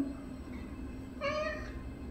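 A sad kitten lets out one drawn-out, plaintive meow partway through, close and clear against a quiet indoor background.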